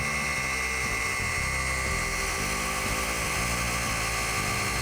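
FLEX polisher buffing car paint to remove oxidation, a steady close mechanical whir with a rhythmic low chugging as the pad moves over the panel, no talking.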